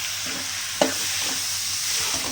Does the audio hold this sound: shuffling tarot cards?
no